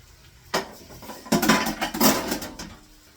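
Sliced onions tumble into a hot pan over frying liver, a sharp clatter followed by a second louder burst of sizzling and scraping metal that carries on for a couple of seconds, no voices.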